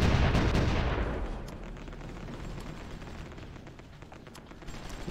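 Artillery fire in the strategy game Supreme Ruler Ultimate shelling enemy garrisons: a loud boom opens, then a long rumbling decay with scattered distant crackling shots.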